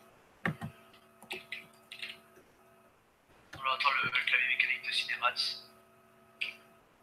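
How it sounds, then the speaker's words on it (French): Mechanical keyboard keys clack in short bursts and a dense flurry of rapid typing, close and crisp over a faint hum with tonal background sounds. "C'est quoi comme clavier mécanique"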